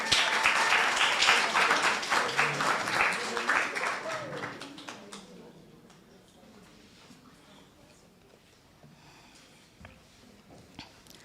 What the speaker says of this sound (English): please clap for Rihanna